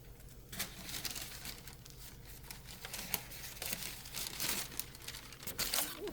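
Wax paper being handled in a home kitchen, giving a steady close crinkling and crackling with sharper rustling bursts throughout, no talking.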